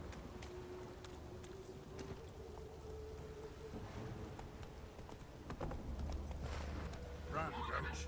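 A horse gallops in The Witcher 3 with rapid, rhythmic hoofbeats throughout, steady and fairly close. Someone talks over the hoofbeats from time to time.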